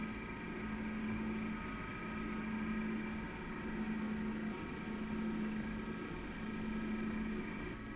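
A stand mixer runs at low speed kneading milk bread dough made with egg and melted butter, giving a steady motor hum with a rhythmic, repeating thump as the dough turns, close and alone.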